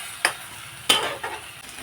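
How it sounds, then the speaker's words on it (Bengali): Spices cooking down with tomatoes in a pan give a soft sizzle broken by a few sharp stirring scrapes of a spoon. "টমেটোর সাথেও এখন আমি মশলাটাকে ভালোভাবে কষিয়ে নিব।"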